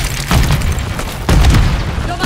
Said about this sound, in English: Fire grenade.